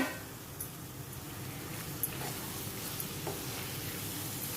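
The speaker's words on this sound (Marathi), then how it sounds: "आता आपण ह्यामध्ये कोलंबी घालून घेऊया कोलंबी घालून छान असं परतून घेऊया" Prawns being sautéed with spring onion and spices in a pan, a soft continuous sizzle with occasional stirring scrapes, close and quiet, with no talking.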